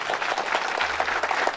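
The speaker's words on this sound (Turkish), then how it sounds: "Ben bir Abdurrahim Bey için sizden alkış rica ediyorum" Audience clapping at the opening ceremony of a kindergarten in Genç, Bingöl, a steady patter of many hands filling the short stretch from start to finish at a moderate level.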